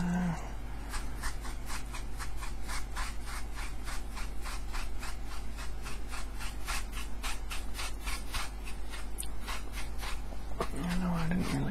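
Paintbrush bristles rhythmically rubbing and blending paint on a winter night sky painting, a close, soft, regular scratching stroke repeating steadily over a low hum.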